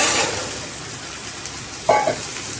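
Onions and chickpea sundal sizzle in a hot pan, a steady close frying hiss with a brief louder burst of stirring near the end, no voices.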